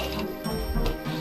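A chaingun in Guncaster, a Doom mod, gives off a brief mechanical ratcheting whir of rotating parts with a few quick clicks, close and fairly loud, with no voice.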